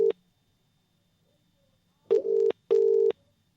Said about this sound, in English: It's just ringing.